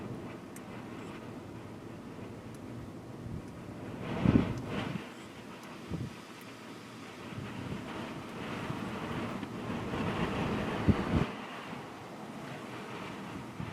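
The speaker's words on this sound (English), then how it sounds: "this is wind feeding into it, and it's getting strong" Strong wind gusting outdoors during a supercell storm near Burkburnett and Dean, Texas, a steady low roar buffeting the microphone with a few louder gusts and no talking.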